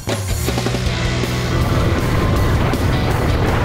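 An off-road vehicle engine roars steadily at high revs, close and loud, with rough mechanical rumble as it drives hard over ditches and holes.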